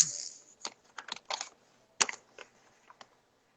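Computer keyboard typing in a quiet room, close, crisp key clicks in uneven bursts with short pauses between them, fading to occasional single taps.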